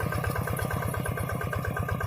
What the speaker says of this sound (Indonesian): Ya ini traktor ini ya serbaguna ya, dibuat bajak tegal.